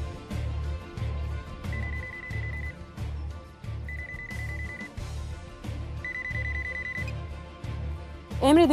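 A phone rings in repeated trilling bursts over a pulsing, rhythmic music bed, with a rising tone at the end.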